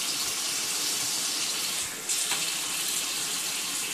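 Water running from a tap and splashing between hands, a steady close hiss and trickle with a brief dip midway, no voices.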